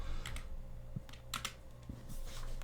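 Someone types on a computer keyboard at a desk, giving a close, quiet run of irregular key clicks and taps with no talking.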